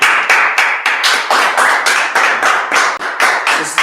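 A group claps hands in unison at a Friday night class, loud sharp beats in a steady even rhythm, about four per second, with no talk.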